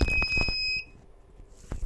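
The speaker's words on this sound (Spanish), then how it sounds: "habréis escuchado el pitido" An AEG LT20 battery charger sounds a short, high, piercing warning beep for wrong polarity, held steadily for about half a second and then cut off, with a few handling knocks and clicks around it.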